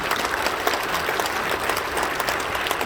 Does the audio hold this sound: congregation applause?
yes